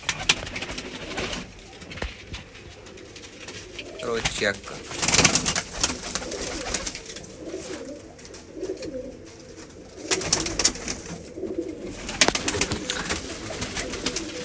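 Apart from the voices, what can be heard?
pigeons cooing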